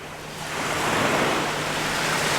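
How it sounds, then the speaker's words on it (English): Ocean waves wash and recede along a beach on the coast, a steady broadband rush that swells after the first half second and holds loud and close, with light wind noise and no voices. "capture the waves as they're receding and creating lines on the beach"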